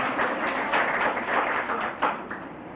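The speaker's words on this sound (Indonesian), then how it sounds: "Tepuk tangan lagi buat Tuhan Yesus." Audience applause in a church service held at a women's prison, brisk clapping from a group, fairly loud and steady across the moment.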